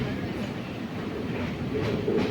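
Sleeper class train travelling from Karaikal to Ernakulam, a steady low rumble of wheels and carriage noise with faint rhythmic clatter, heard from inside the coach.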